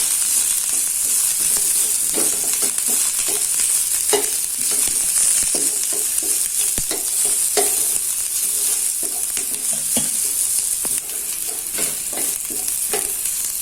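Bay leaves and bruised galangal frying in a pan, a steady loud sizzle throughout with frequent sharp scraping and stirring clicks from a utensil, no voices.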